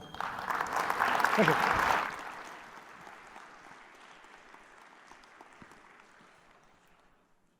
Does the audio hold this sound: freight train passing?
no